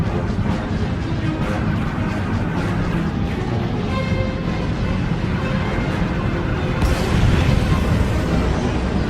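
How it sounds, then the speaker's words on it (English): Starship bombardment in SWTOR (Star Wars: The Old Republic) aimed at population centers: a continuous, loud rumbling barrage of deep booms and blasts, swelling into a heavier burst near the end, with no talk. "Proceeding with bombardment, targeting all major population centers."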